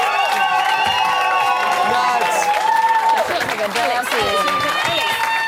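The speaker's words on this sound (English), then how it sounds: "Give them a round of applause." A studio audience at a Celebrity Big Brother UK 2015 show claps and cheers, with excited shouting and loud voices rising over the applause throughout.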